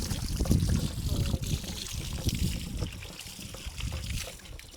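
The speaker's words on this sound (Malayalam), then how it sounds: "ഒരു ഓസ് ഇങ്ങനെ വെച്ച് കൊടുത്തിട്ടുണ്ട് കേട്ടോ വെള്ളം ഇങ്ങനെ വരാൻ വേണ്ടിയിട്ട്" Water runs and trickles from a hose as pumpkins are washed outdoors in a village in Malawi, a steady splashing flow with faint talk in the background.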